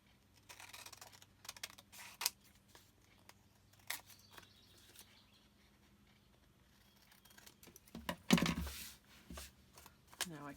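Scissors snip through junk mail envelope paper in short, quiet bursts close by, with paper rustling between cuts and a louder crunching cut near the end.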